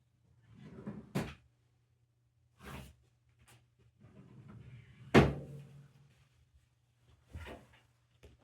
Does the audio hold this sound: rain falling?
no